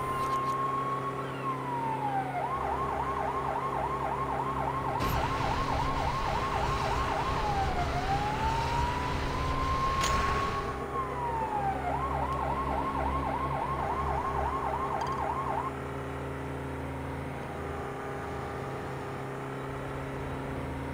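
A police car siren in the Lego City Undercover video game wails and yelps in repeating cycles over a low engine drone, loud and continuous with no talk.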